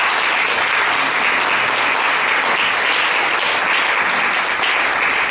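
Congregation in a Spanish-language church service applauding, a loud, unbroken roar of many hands clapping that holds at an even level for about five seconds, with no voice over it.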